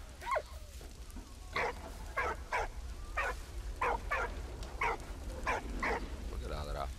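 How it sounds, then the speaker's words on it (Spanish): A dog barks repeatedly in the video game Valiant Hearts: The Great War, a run of short, fairly faint barks and yips in an irregular rhythm over a low steady hum. "¿Por qué ladra?"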